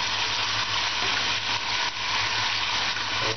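Pieces of lamb sizzle in a hot pan, a steady loud frying hiss that holds throughout with slight dips, no voices over it.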